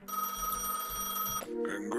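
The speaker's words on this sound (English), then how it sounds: "Alright, let's take the phone call." In the video game Gas Station Simulator, a phone rings with a steady, tonal electronic ring that holds for about a second and a half and then gives way to a brief burst of other game sound.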